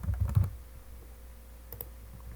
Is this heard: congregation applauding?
no